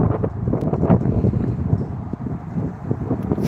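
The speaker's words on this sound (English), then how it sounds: "It's pretty windy out here." Wind gusting across a lakeside marina in Buffalo, New York, a steady low buffeting roar against the microphone throughout, with no voices.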